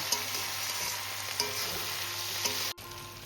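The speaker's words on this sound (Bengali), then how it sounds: "টমেটোটা গলে আসা পর্যন্ত আমি একটু ভালো করে নেড়ে ছেড়ে নেব" Chopped tomatoes fry in a pan with capsicum in a continuous soft sizzle, and a few light taps of the spatula mark the stirring before the sound cuts off abruptly near the end.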